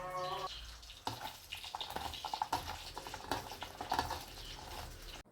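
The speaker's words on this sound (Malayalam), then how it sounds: "ഇതിലേക്ക് കുറച്ച് സവാള കൊത്തി അരിഞ്ഞിട്ടിട്ട് ഒന്ന് മിക്സ് ചെയ്തെടുക്കാം നമുക്ക്" Leftover fish masala mixed with chopped onion is stirred in a pan, giving repeated scraping and clinking strokes with a faint wet sizzle underneath. The sound stays steady and close throughout, with no talking.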